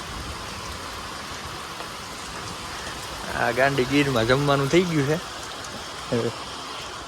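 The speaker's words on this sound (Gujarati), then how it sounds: "જોઈ લો ભાઈ વરસાદ પાણી આવે છે" Rain falls steadily outdoors at a herders' camp in the Gir countryside, a continuous soft wash of drops under which someone talks for a few seconds midway and again briefly near the end.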